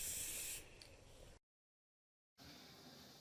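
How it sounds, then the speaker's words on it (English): A can of lime spray paint hisses onto cardboard in a strong burst that trails into a lighter spray, then cuts to silence before another faint steady hiss resumes. "we'll spray it on and we'll see what it's like"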